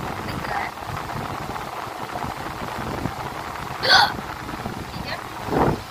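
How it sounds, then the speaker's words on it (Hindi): A woman hiccups twice over a steady background hiss, each hiccup a short sharp burst, close to the microphone, the second a little softer. "क्योंकि मेरे को हिचकी बहुत ज़्यादा आ रही है।"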